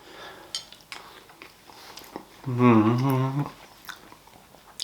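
A small slice of raspberry almond cake is cut and eaten, with soft clinks of cutlery and quiet bites, broken by a short voiced hum of appreciation near the middle.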